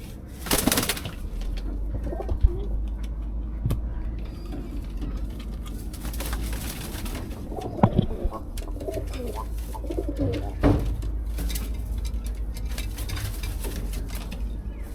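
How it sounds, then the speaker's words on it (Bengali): Fancy pet pigeons coo softly in a series of low, throaty calls, with occasional wing flutters and light knocks nearby. "এই সব ফেন্সি কবুতর"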